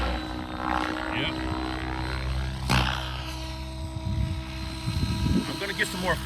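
Steady rotor whine of a Steam AK700 Pro RC helicopter hovering close by, with a brief sharp surge midway and some voices talking underneath.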